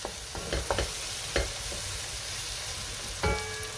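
Vegetables dusted with sweet paprika are stirred in a hot pan for a chicken fricassee, giving a steady close sizzle broken by several scraping strokes of the spoon, with no voices.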